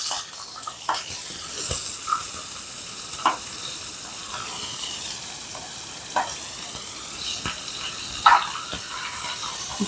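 Sliced onion drops into fenugreek and fennel seeds frying in hot oil, producing a bright, steady sizzle dotted with irregular clicks and knocks from stirring over about ten seconds.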